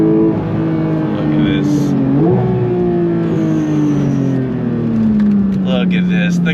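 A Porsche 992.1 911 GT3 with a six-speed manual pulls hard, its engine note rising then easing into a steady drone heard from inside the cabin, with someone talking over it.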